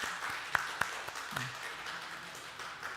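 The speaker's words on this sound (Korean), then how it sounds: "우리 축하드린다고 우리 박수 한번 해주시면 감사하겠습니다" A church congregation gives applause for members celebrating birthdays at a Sunday worship service, a soft, steady clapping spread through the room with a few sharper claps standing out.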